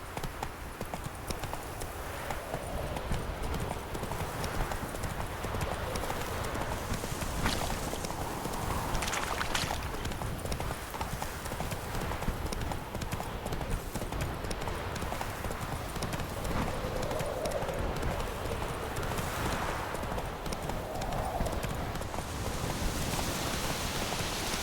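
Horse hooves clip-clop steadily at a moderate pace in The Witcher 3, a continuous rhythmic trot under a dense wash of rain and ambient game noise, with no talk over it.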